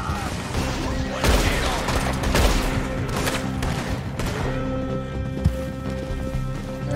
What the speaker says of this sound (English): Why are you shooting at me for?